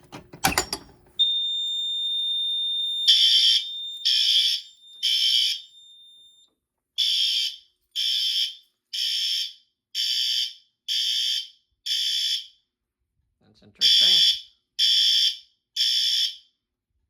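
A Notifier NFS2-640 fire alarm panel, set off by an FCI MS6 pull station, follows a click with a steady electronic tone, then sounds loud pulsing horn-strobe blasts in repeating bursts with a pause, while a person speaks briefly.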